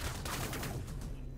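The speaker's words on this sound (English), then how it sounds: "I shot two bullets." Several rapid gunshots from a first-person shooter video game, a quick burst of firing packed into about a second and a half, fairly quiet and with no talk over it.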